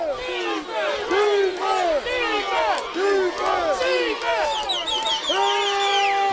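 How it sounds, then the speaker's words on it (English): A high school football crowd at a Dollarway versus Warren game shouts and cheers loudly in steady waves of many overlapping voices, close and continuous throughout. "this Dollarway crowd starts to get into it"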